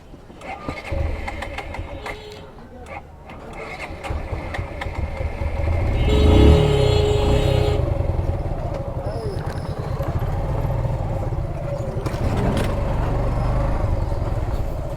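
A Suzuki Gixxer motorcycle engine starts up after repair and revs loudly, then settles into a steady idle, with voices speaking nearby.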